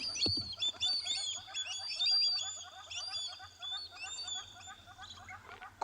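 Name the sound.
birds calling as a young gymnogene flies off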